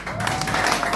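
Audience applause at a comedy and dinner show, a dense wash of many hands clapping steadily for about a second, loud and close with crowd noise mixed in.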